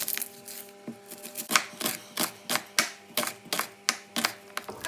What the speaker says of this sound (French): je vais éplucher et couper mon oignon